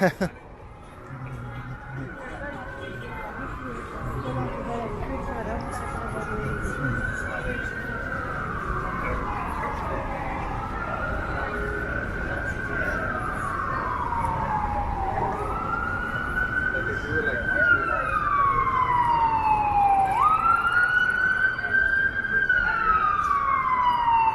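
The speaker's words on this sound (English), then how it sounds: "Okay, it is an ambulance." An ambulance siren wails in long rising and falling sweeps, growing louder and closer over time amid traffic noise on Yonge Street in Toronto.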